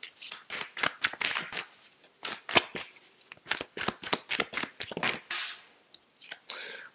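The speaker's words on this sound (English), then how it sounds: "I'm going to grab one more card here." Tarot cards are shuffled and drawn from the deck at close range, a quick run of crisp papery flicks and riffles with a few sharper snaps.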